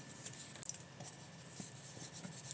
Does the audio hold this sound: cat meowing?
no